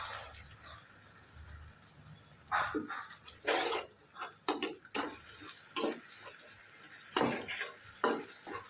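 A pan of spiced chickpeas with a little water being stirred, the spoon scraping and clicking in irregular strokes over a soft steady sizzle, close by with no talk.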